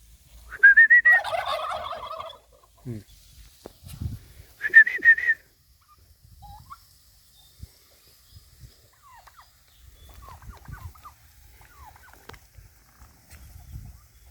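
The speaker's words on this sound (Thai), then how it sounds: "ฝูงไก่งวง ผมก็วิ่งตามมันไม่ทันนะครับ" Two loud bursts of gobbling from a flock of turkeys, a few seconds apart, followed by quieter clucks and rustling.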